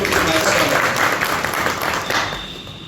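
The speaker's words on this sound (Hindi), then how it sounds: "मैं सबसे पहले कहूँगा जोरदार तालियों से" Audience applause at a youth parliament event, a dense wash of clapping that holds steady and then tapers slightly toward the end, with some voices mixed in.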